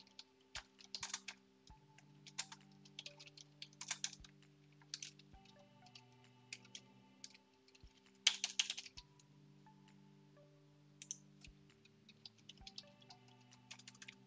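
Steady typing of code on a computer keyboard, a close, brisk patter of key clicks in uneven bursts with short pauses, heard alone with no talk.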